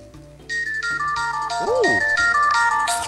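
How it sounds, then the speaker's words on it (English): A phone ringtone plays loudly close by as a bright, repeating electronic melody of rising tones, heard alone without talk. "It's my ringtone."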